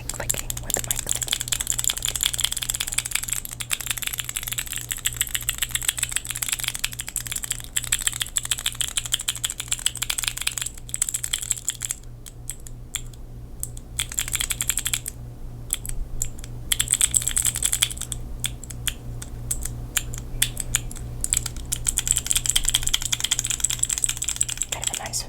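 Mechanical keyboard fidget toys click steadily in dense rapid bursts, close and crisp, with brief pauses midway and a low constant hum beneath; whispered talk can be faintly heard at times.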